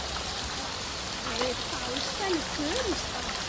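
Rain falls in a steady, even hiss. A voice speaks briefly underneath it.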